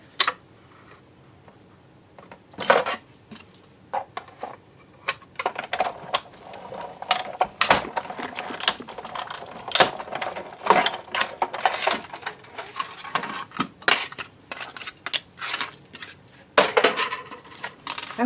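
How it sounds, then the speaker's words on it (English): A Big Shot die-cutting machine with a magnetic platform and cutting pad cranks metal dies through paper, giving repeated clicking, clattering mechanical sounds and rattles at close range across the whole stretch, with no talk. "So Big Shot, magnetic platform, cutting pad, and then we're going to try to cut both of these out at the same time."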